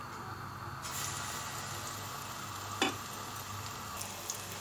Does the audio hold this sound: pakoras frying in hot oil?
yes